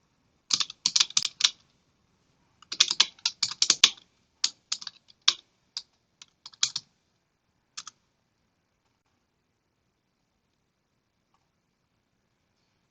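Bursts of quick typing on a computer keyboard while configuring a Cisco FlexVPN lab, clustered keystrokes in the first few seconds thinning to scattered single clicks, then quiet; no talking.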